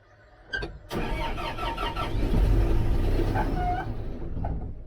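An engine cranks, catches and runs with a rough, rumbling idle that sways, then starts to fade toward the end, as if stalling. No one speaks.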